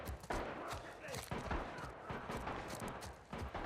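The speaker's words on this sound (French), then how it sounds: "Bah oui, ça tire." Scattered gunshots and rapid fire ring out in The Last of Us, as sharp overlapping cracks at a moderate distance over a noisy background.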